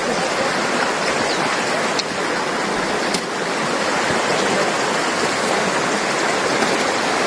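The Ruvubu River flowing as a steady, dense rush of water, loud and unbroken throughout with no voices.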